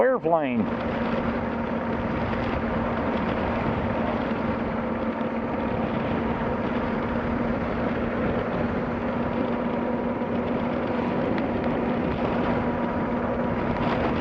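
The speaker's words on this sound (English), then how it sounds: "Airplane." A steady, droning engine hum of an aircraft passing overhead, continuous and fairly loud throughout with a constant low tone.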